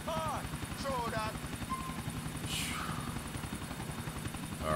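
A helicopter flies in the video game Grand Theft Auto IV, its rotor throbbing with a loud, rapid, continuous chop while voices talk over it.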